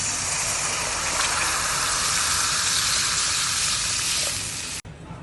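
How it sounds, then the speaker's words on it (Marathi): Water poured into a hot tempering of onion, garlic, chilli and cumin for besan pitla, a loud, steady hissing gush of sizzling that cuts off abruptly near the end, with no talking. "आता त्यात घालूया पाणी."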